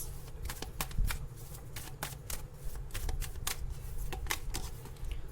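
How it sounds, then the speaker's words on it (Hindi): Tarot cards are shuffled in a steady run of crisp riffling flicks and snaps, close and moderately quiet, with no talking over it. "चलिए कार्ड निकाल देती हूँ"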